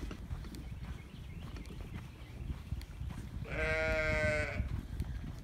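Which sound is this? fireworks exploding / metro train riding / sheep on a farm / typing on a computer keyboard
sheep on a farm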